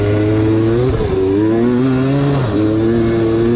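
Dirt bikes in a cross country race, a Yamaha YZ among them, scream close by at high revs, the pitch rising and dipping as riders shift and back off, loud and continuous.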